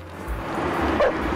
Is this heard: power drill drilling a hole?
no